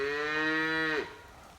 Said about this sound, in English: That's her calf bawling.